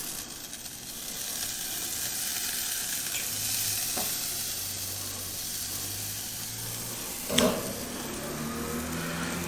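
Skirt steak and flanken-style ribs sizzle steadily on a grill, a continuous fatty hiss with a brief louder flare near the end and no talking.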